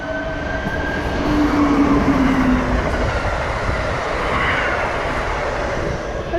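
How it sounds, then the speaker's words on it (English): A train passes along a coastal rail line in New England, a steady rumbling roar that swells and holds throughout, with a faint tonal squeal from the wheels early on and no talk. "Here comes one of those trains."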